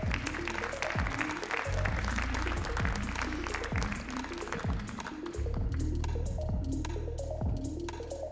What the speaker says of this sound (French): sous vos chaleureux applaudissements bien sûr.